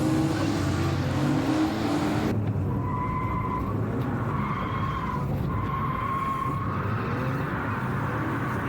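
BMW E46 325ti Compact drifting through wet sections of the Chenevières drift track, a steady loud engine roar with sustained tire squeal and skidding throughout, no talk.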